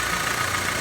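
Honda Civic engine idling with a misfire, a steady close-up mechanical drone with faint uneven knocking in a very short stretch.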